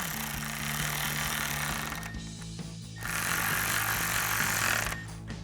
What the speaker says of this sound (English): we can take a 4mm Allen socket and tighten these down